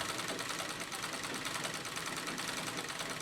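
A sewing machine stitches a quilted fern pattern into white denim, a steady fast mechanical whir that runs continuously and evenly throughout, fairly faint.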